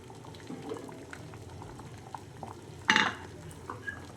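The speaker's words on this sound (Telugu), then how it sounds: "పప్పు ఉడుకుతుంది" A pot of dal bubbles and simmers steadily at close range, with a single sharp clatter of a utensil partway through.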